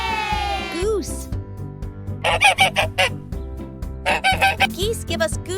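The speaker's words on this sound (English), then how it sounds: "Goose." A goose on a farm gives a run of loud, nasal honks in quick bursts, near and clear, with a short stretch of quieter fowl calls between them and no talking.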